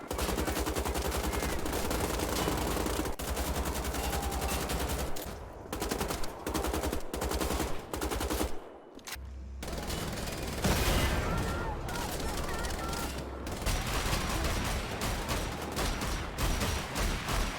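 Combat gunfire in the video game Wolfenstein: The New Saga, dense rapid automatic shots and bursts, loud and continuous with brief pauses and explosive hits.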